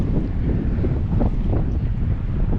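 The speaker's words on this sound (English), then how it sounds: "By this point in the morning, the wind had really picked up" Strong wind buffets the microphone out on open water at Oregon Inlet, North Carolina, during kayak fishing near a bridge, a steady loud rumbling roar with gusty swells and no voices.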